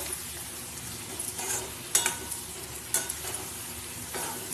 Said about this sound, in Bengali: জিরে গুঁড়ো অল্প একটু ধনে গুঁড়ো এই দিয়ে পেস্টটা বানিয়েছি এবার ভালো করে আমি কষিয়ে নেবো